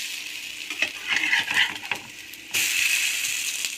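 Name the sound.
bread snack frying in oil in a pan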